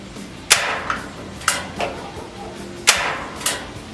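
Sharp clicks from the manual ignition knob on a Camp Chef FTG 600 outdoor flat-top griddle. The clicks are close and crisp, about five of them in an uneven rhythm with short ringing tails, and no one speaks.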